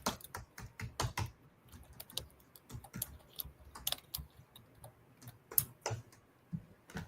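Typing on a computer keyboard, a rapid irregular run of close, crisp key clicks and taps that continues steadily throughout, with no voices.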